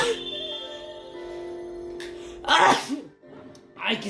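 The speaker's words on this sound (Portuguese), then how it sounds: "Ai, que espirro gostoso, hein?" A single sneeze bursts out at close range, with a sharp intake and a second shorter burst after it, set against quiet game music.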